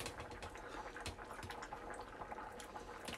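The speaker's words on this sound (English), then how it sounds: "Bubbling away." Soup bubbles in a pot with a steady, soft, continuous gurgling and popping, fairly quiet and heard alone.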